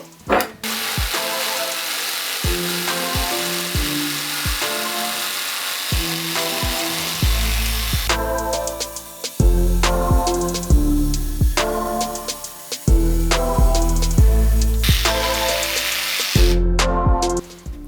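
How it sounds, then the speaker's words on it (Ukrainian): Revolt cordless jigsaw, a Makita copy, fitted with an anti-splinter insert, cutting wood in repeated bursts; a loud buzzing motor starts and stops several times with harsh blade chatter, close up and without talk. "давайте перевіримо, як працює лобзик з антискольною вкладкою"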